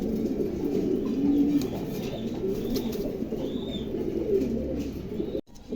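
Adult female fancy pigeons coo continuously in a low, rolling murmur, several birds overlapping close by with steady loudness that briefly drops near the end.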